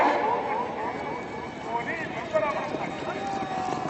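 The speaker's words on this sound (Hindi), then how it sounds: "बहुत अच्छा घोड़ा, बहुत अच्छे सवार।" A horse gallops at a neza bazi tent-pegging event in Mandi Bahauddin, Punjab, hoofbeats running steadily through the clip beneath a loud announcer's voice and crowd noise.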